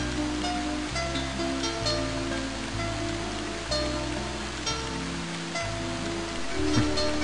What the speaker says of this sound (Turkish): Yağmurun damlaları cama vuruyor.